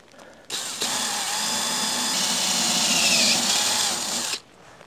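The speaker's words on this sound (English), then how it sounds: "I'll get the drill and drill them out and put a rivet in" A power drill runs steadily for about four seconds with a high whining tone, drilling out metal rivets on a 1975 Viscount Ambassador. It is close and loud, with no talking.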